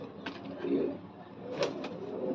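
Pet pigeons coo in a handful of low, throaty phrases spaced across the moment, close by over a steady background hiss.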